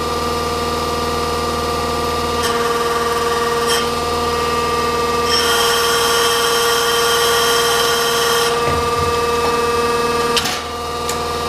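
Press brake cycling once to make a 1/2-inch bend on a tab, a steady machine hum and drone running throughout with a brighter, louder stretch midway and a brief dip near the end.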